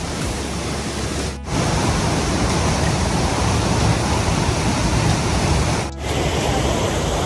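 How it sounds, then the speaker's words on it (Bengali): A waterfall in Norheimsund, Norway, roars up close as a loud, steady, broadband rush of falling water over rock, broken by two brief dips. "আমি এখন ঝর্ণার নিচে, তো আমার হাতে ঝর্ণার পানি পড়ে"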